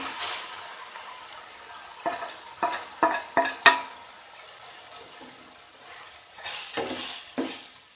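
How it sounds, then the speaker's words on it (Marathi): Marinated mutton for Goan mutton sukka goes into a pan of fried onion and tomato, followed by a cluster of clattering stirring scrapes against a soft background sizzle. "आता तातूंत आमी जे मॅरिनेट करपाक दवरलेले घालुया।"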